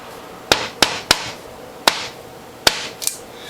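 A knife chops away the tough outer skin of sugarcane: about six sharp, loud, close cracks spaced irregularly, each with a brief ringing tail, and no talking.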